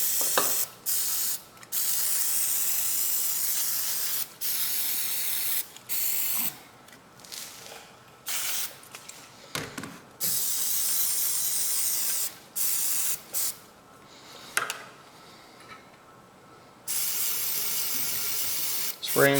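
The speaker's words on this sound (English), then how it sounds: "Spray the linkages." Carb cleaner sprayed in repeated hissing bursts onto the carburetor linkages of a Husqvarna lawnmower that won't run, close and loud, with short pauses and faint clicks between sprays.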